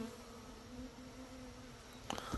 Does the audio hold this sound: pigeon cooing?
no